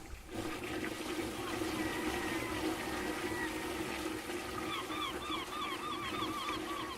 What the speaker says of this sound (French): j'aime le bruit des vagues.